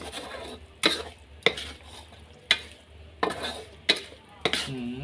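Mussels with fresh chili stir-fried in a pan, a metal spatula scraping and clanking against the pan in sharp strokes about once a second over a soft background sizzle, close and fairly loud, with no talking.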